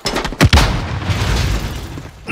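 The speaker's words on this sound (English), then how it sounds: "You stun, I'll throw a knife. Stun grenade out." A stun grenade detonating in a video game, a loud close boom with a sharp double crack followed by a lingering rumble and ringing noise, no speech.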